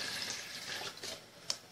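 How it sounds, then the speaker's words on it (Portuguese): Water running as it is poured into a mixing container for powdered-milk pudding, a steady soft splashing stream heard up close and fairly quiet, with a couple of faint clinks near the end. "Coloca a água."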